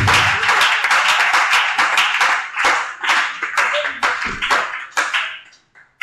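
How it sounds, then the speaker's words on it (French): A church congregation at a Christian seminar claps loudly and continuously in a dense, close wave of rhythmic clapping. The applause fades out near the end. "On acclame le Seigneur."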